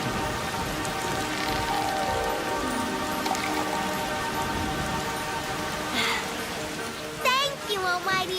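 Cartoon rain falls as a steady patter on surfaces, with a brief crackle near the end and short voiced sounds over it.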